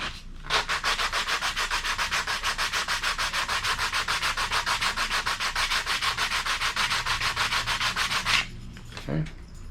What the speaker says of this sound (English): Just sand that real quick.